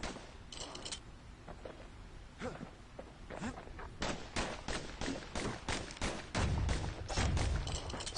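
Slinger pistols from the game Bastion fire in a quick sequence of sharp cracks, sparse at first and then in rapid bursts over background game sound and narration.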